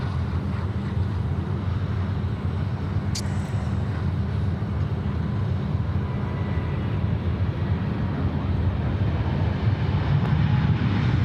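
A jet airliner landing at Sydney Airport gives a steady, broad engine roar that holds loud and unbroken throughout, with no voices.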